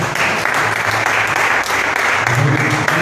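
A church congregation applauds during a worship service, a loud, steady wash of clapping with a low murmur of voices underneath.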